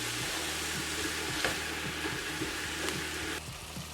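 Onions sizzling in coconut oil with garlic, ginger and miso, a steady broadband fry with faint periodic scrapes of stirring, close and continuous with no talking.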